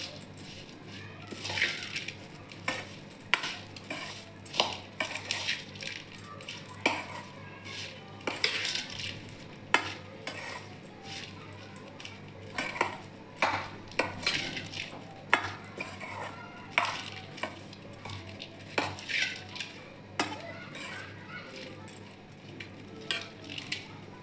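Bhel made from puffed rice with raw mango is stirred and tossed in a bowl, giving repeated scraping, rustling clinks of a spoon against the dish throughout, fairly close and without any talking.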